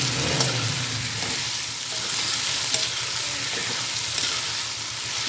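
Cumin seeds dropped into a hot pan of frying chicken and potatoes hiss into a loud, steady sizzle that stays close and continuous throughout, with faint stirring beneath and no voices.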